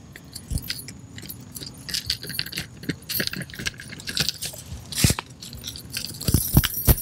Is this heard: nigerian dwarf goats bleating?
no